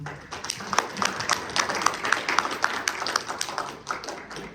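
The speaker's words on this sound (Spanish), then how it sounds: "Fuerte aplauso, por favor." Audience clapping follows a seminar talk on multiscale composite materials, a moderate, fairly sparse patter of hands that continues steadily for several seconds.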